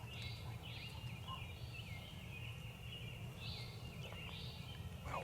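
A wild turkey gobbles twice in the Ohio woods, rattling calls that sound some distance off over a steady low outdoor rumble with faint insect buzz.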